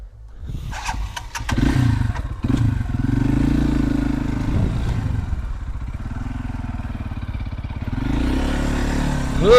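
Loncin 250 Rally motorcycle labours through deep sand on a forest track. The engine clatters and revs unevenly close up as the throttle rises and falls.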